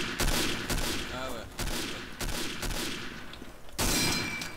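Machine gun fire crackles through a Day of Defeat battle, several sharp bursts landing at uneven intervals with loud reports near the start and end, amid continuous gunfire in the background.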